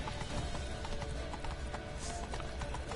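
Horse hooves clopping in a steady walking rhythm in the video game Witcher 3, set in Novigrad, sounding close and continuous over a dense bed of game ambience.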